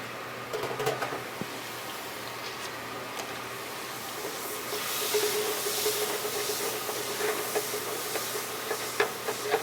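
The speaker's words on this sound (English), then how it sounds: "Once we got the oil going, go ahead and add our cubed butter." Cubed butter sizzles in hot oil in a pan while cooking venison, a steady frying hiss that grows louder and fuller about halfway through, with scattered light pops and clicks.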